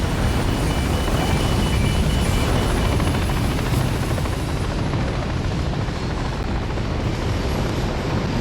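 A helicopter in the Modern Warfare video game campaign thunders overhead with a dense, constant rotor roar and engine whine, loud and close throughout, with no talking.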